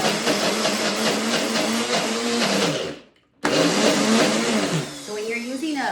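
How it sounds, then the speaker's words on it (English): A NutriBullet blender whirs loudly and steadily, cuts out briefly around three seconds, then starts again at full strength before the pitch shifts toward the end, with a voice talking over the motor. "So I'm gonna go ahead and start the blender here."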